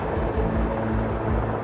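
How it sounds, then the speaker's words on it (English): A helicopter passes low overhead near a closed-down airbase, a loud, steady rotor and engine drone with a faint rhythmic chop filling the whole stretch, heard alone without voices. "a helicopter has just come right over in the exact position"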